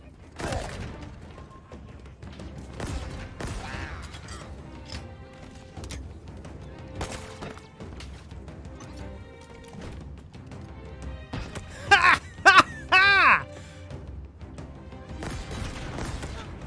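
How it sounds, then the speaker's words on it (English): Explosions and gunfire in Halo Infinite: scattered booms and bursts of shots at varying distance, with a cluster of sharp loud blasts near the end, under a continuous game soundscape and bits of talk. "Lots of explosions happening right now."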